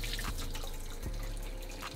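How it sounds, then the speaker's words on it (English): Hot water runs from a kitchen sink tap over a dish being rinsed, a loud continuous splashing rush with drips, no voices. "Put that in the sink, and I can take the hot water that's left in here and just go like that."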